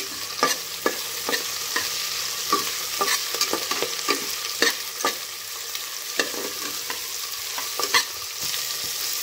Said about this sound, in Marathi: आता ह्याच्यामध्ये घालते आलं लसूण, त्यानंतर टोमॅटो, ते छान परतून घ्यायचं